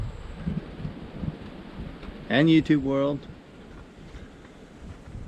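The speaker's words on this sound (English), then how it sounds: "It's really windy and cold." Steady outdoor wind on a cold deck, rumbling and buffeting the microphone throughout, with someone speaking briefly over it midway.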